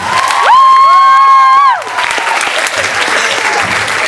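Loud audience applause and cheering for both teams at a ComedySportz improv comedy match, a dense burst of clapping with a whooping whistle at the start, easing into sustained clapping.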